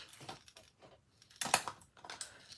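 Ribbon scissors cut through sticker sheets for a scrapbooking kit, giving a series of close, crisp snips and clicks in irregular bursts with quiet gaps between.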